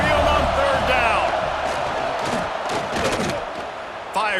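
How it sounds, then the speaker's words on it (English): Crowd noise from a college football video game, a dense roar of fans at Saban Field on third down, loud and continuous with rising cheers, while a commentator talks over it. "The Tide crowd rolling noise down onto Saban Field on third down."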